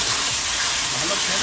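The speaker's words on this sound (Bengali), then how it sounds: "হ্যাঁ সুন্দর করে কষাচ্ছি" Spices for an egg curry sautéing in a pan, a dense continuous sizzle that stays loud and steady throughout the short stretch.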